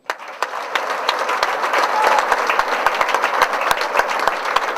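Crowd applause at a business opportunity meeting, dense clapping throughout with some sharp nearby claps standing out and a few faint voices underneath.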